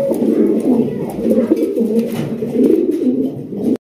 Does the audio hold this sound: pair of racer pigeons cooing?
yes